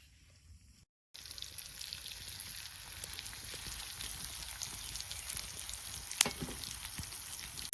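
After a brief quiet moment, a steady loud sizzle erupts as fish hits a hot pan and keeps frying, with occasional crackles and pops.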